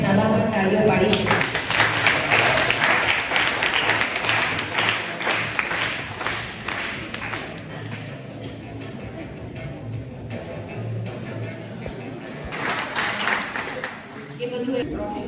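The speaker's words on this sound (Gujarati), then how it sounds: "આપણે આવા પણ તાળીઓ પાડી શકીએ." Audience applause at a Gujarati book launch during a mother-language festival: a loud burst of many hands clapping, thinning to scattered claps midway, then swelling again near the end, with some talk underneath.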